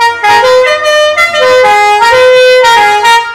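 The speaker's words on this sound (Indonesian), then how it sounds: "ini klakson tambahan" A loud, close auxiliary car horn on a restored Mazda Bongo F1000 Deluxe minibus honks in a series of sustained blasts that shift slightly in pitch, with short breaks between them.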